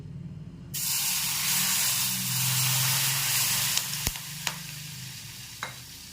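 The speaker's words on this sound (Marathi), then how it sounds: "आता आपण जे तेल गरम करून घेतलं होतं ते यामध्ये टाकायचं आहे" Hot oil is poured onto masala-coated green chilies for a chili pickle and bursts into a loud, close sizzle that settles into steady hissing, followed by a few sharp clinks of a spoon. No one speaks.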